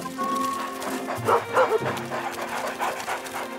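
Cartoon dogs barking and panting, a few excited yips and barks near the middle over a soft musical background.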